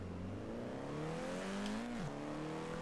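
A Volkswagen Golf R in Forza Horizon 4 drives with a steady engine drone that climbs in pitch as it accelerates, then drops sharply at a shift before building again, heard alone.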